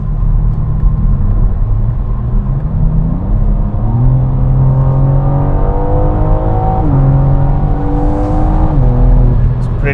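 A BMW G82 M4 with an Akrapovic catback exhaust, valves closed, accelerates steadily with a deep, muted drone that climbs in pitch through several gear changes, heard up close and continuous.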